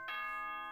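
A short electronic chime from the video game Danganronpa rings out once, a bright bell-like tone that sustains and slowly fades, clear and alone.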